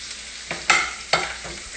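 Fish cooking in browning butter in a pan, with short bursts of sizzling and spattering, two louder surges among softer crackles, close up and without voices.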